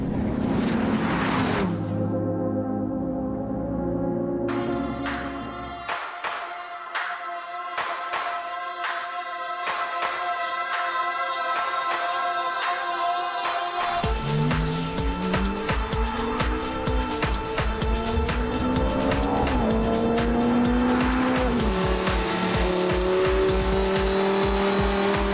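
A Lamborghini Gallardo and a Ferrari F430 drive hard on a wet track, loud engines revving and shifting with rising and falling tones, tires hissing through standing water and squealing.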